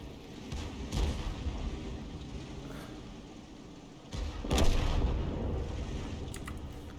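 Self-propelled M40/M43 artillery in a video game fires and lands its rounds, with two dull booming blasts standing out over a steady rumbling battlefield background, one near the start and a stronger one about two-thirds through.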